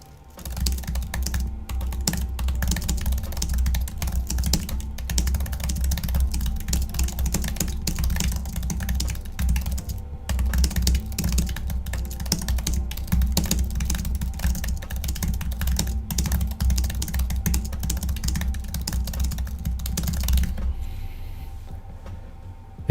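Fast, continuous typing on a computer keyboard, a dense, close stream of key clicks that carries on for about twenty seconds before stopping abruptly.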